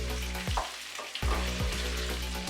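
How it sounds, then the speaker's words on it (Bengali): Olives for a tangy-spicy pickle fry in a pan with garlic and chillies, a loud steady sizzle punctuated by several sharp stirring scrapes as they are turned over. "উল্টে পাল্টে নাড়াচাড়া করতে হবে জলপাই"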